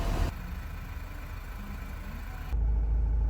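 Mazda CX-5 diesel engine running during a carbon clean, a steady low idling drone close by, growing slightly louder and heavier near the end.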